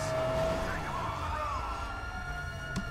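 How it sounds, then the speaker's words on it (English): A tornado warning siren wails, rising and falling in the distance, sustained over background noise, with a voice briefly audible beneath it. "I don't know if you can hear the tornado sirens going off"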